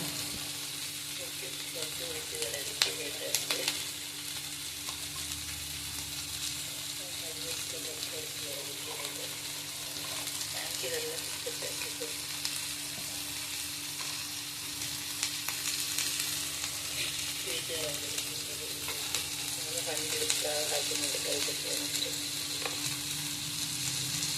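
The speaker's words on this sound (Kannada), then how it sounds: "ಇದು ಫ್ರೈ ಆಗಲಿ" Egg masala fries in a pan with a constant close sizzle and occasional stirring scrapes, steady throughout, while a person speaks quietly over it.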